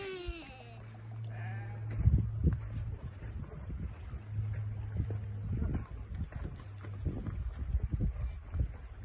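Sheep and goats kept alongside donkeys in Addis Ababa bleat in a series of calls, some near and some farther off, over light wind and outdoor background noise.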